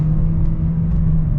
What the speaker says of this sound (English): we can get an acceleration from a standstill